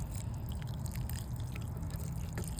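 Water pours onto freshly planted soil where basil and carrot seeds are sown, a steady soft splashing and trickling close by, with no talk over it.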